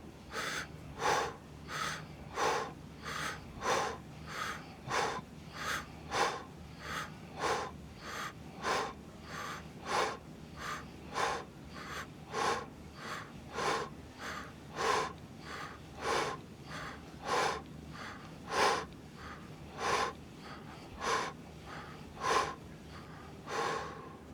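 Rapid, rhythmic breaths for a freediving hyperventilation exercise, about two dozen sharp inhale-exhale bursts at an even pace over a steady low hum, close and fairly loud, with no talking.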